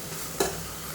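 Nayuruvi greens sautéed in a pan, a steady frying sizzle with one brief scraping stir of a spoon against the pan standing out near the middle, no speech.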